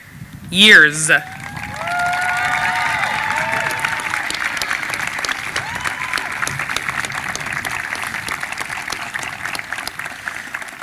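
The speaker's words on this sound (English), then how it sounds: "Your applause will be a symbol of your gratitude for all they have done for you over the past years" A high school graduation crowd breaks into sustained applause for the faculty, broad and steady clapping from many people that carries on for several seconds after a voice briefly speaks at the start.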